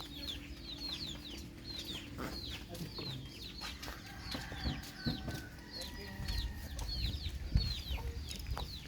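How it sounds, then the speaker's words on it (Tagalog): A hen clucks repeatedly in short, insistent bursts, with other fowl and faint background voices and thumps around the yard. "ang ingay nung inahin"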